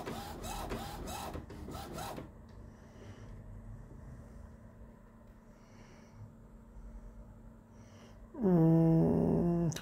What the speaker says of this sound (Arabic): هسه راح يقول دي تشيك طابعة والرأس مالته.